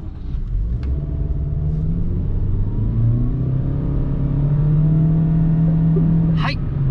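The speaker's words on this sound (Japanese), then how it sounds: "ゼロ発進からの加速ちょっとやってみましょう" A 1.3-litre petrol Toyota Vitz, later 130-series model, pulls away from a standstill, its engine note rising steadily as it accelerates, heard loud and continuous from inside the cabin with no talking.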